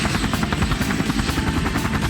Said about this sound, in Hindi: पर तभी बाबा का हेलीकॉप्टर वहां आ गया था।